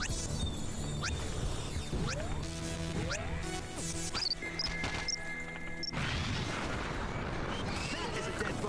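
Missile explosions in the space shooter Galak-Z, a run of sharp crashing blasts with zapping sweeps and booming impacts over steady game music, a burst of heavier noise near the end; a voice talks briefly.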